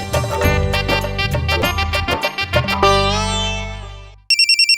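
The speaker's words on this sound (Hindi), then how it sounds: "फोन की घंटी बज रही है" A phone ringtone plays loudly and close, a rapid melodic electronic tune of repeated notes that ends on a held tone, then a fresh burst of ringing starts.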